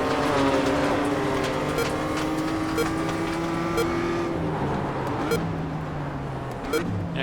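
BMW M2 race cars at Oulton Park in a racing video game, with an engine whining through the gears and other cars close by, steady and loud throughout.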